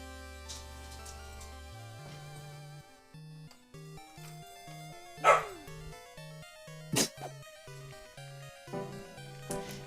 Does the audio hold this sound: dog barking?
yes